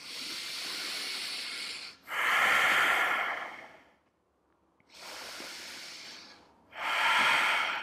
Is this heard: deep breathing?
yes